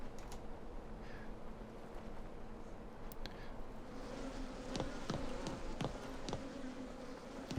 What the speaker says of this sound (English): I hear bees. Ah, there's a hive right here.